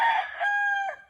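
A rooster crows once, a loud, drawn-out call with a rising middle and a falling end, heard close by.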